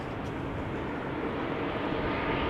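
Cathay Pacific Airbus A350-1000 approaching Amsterdam Schiphol, a steady, fairly loud jet engine rumble that stays even for the whole short stretch with no voices.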